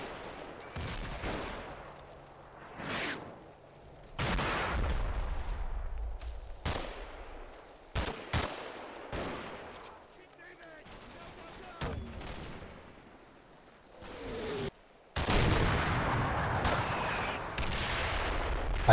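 Gunfire in the wargame Combat Mission as a platoon fights for fire superiority over a machine gun nest: bursts of rifle and machine-gun fire and heavier booms, irregular and varying in distance, with a louder sustained barrage near the end.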